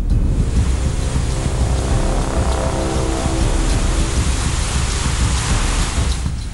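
A waterfall torrent roars alongside heavy rain as flooded rivers rage in Gujarat, a dense, continuous and loud wash of water noise with no voices.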